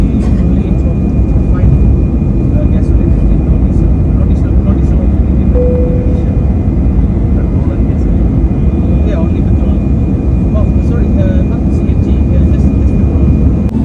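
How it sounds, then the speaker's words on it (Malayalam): Steady broadband roar of a passenger airplane in flight between Bali and Jakarta, a constant cabin drone filling the whole stretch with a faint steady tone above it. "ബാലിന്ന് നിന്ന് ജക്കാർത്തയിലോട്ട് ഒരു അഡീഷണൽ ഫ്ലൈറ്റ് വേറെ എടുക്കേണ്ടി വന്നു"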